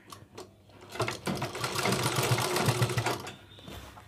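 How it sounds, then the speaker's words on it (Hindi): Sewing machine running steadily as it stitches a round collar neckline on fabric, a close, continuous mechanical whir that rises and holds, with brief pauses and faint rhythmic knocking. "इस तरह से आपको सिलाई लगानी है"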